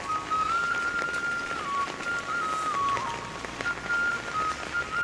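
Rain falls steadily on the Lamgaon market street, a soft continuous patter throughout, with a thin wavering whistle-like tone running over it.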